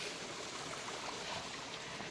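Water rushing along the feed channel of a gharat, a traditional grain watermill in Uttarakhand, heard as a steady, dense broadband rush with no breaks, fairly soft and without voices.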